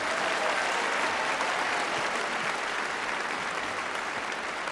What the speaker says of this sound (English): with some well-deserved applause